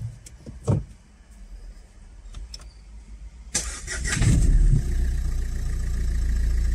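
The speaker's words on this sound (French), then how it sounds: "On démarre un coup." A Renault Megane 3 is cranked and its engine catches after a brief starter whir, then settles into a steady idle, preceded by a few clicks and handling noises up close.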